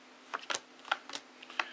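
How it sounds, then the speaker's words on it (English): Tarot cards being shuffled by hand: a quick run of soft, crisp riffling clicks and snaps, irregular and close, with no talking. "Still shuffling like crazy, making sure everything's nice and random like I do."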